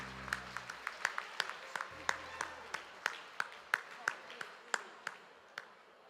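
Sparse, scattered hand claps from an audience at a community awards ceremony, a slow uneven patter of individual claps that fades out over several seconds, with faint background murmur.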